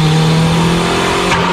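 A drift car braking into a corner, its engine a loud, close, steady drone with a faint rising whine near the end.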